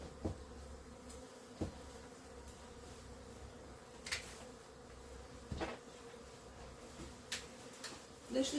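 Honeybees trapped at the windows of transparent hives give off a faint, continuous buzzing, broken by occasional soft taps and knocks in an otherwise quiet room.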